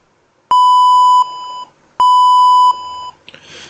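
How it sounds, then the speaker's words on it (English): Two steady, pure electronic beeps, each lasting about a second, sound loud and clean with short gaps of silence between them. "So it's a 1 second beep sound mp3 file."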